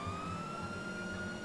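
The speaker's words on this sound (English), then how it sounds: "Excuse me, you see the sirens?" Police car siren from the GTA 5 video game, a steady wailing tone holding fairly constant with faint harmonics, running continuously at moderate-low volume with rumbling engine and road noise beneath.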